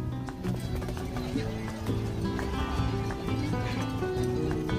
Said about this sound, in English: here's where they have the horse-drawn carriages here.